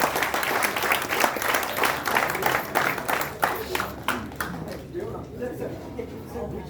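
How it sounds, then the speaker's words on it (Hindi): Audience applause welcoming the managing director of Orbit Private Limited, a guest at a silk merchants' association function, with dense clapping that is loud at first and then thins and fades over several seconds. "मैं चाहूंगा एक बार जोरदार तालियां बजाकर स्वागत।"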